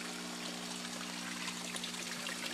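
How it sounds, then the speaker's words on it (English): Water bubbling and trickling in the corner of an aquaponics tank, a steady faint splashing texture over a constant low pump hum, with no voices. "you can actually see the water bubbling right there in the corners,"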